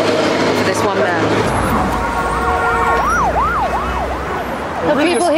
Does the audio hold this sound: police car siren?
yes